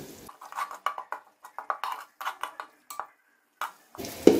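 Mutton brain masala being stirred in a pan, with a spoon scraping and clinking in quick irregular strokes close by and a light sizzle of frying underneath, ending in a louder scrape.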